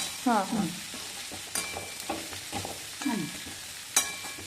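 Okra frying in oil in a pan, quiet sizzling under a few close scrapes and knocks of a spatula stirring, irregular and moderately soft, no speech.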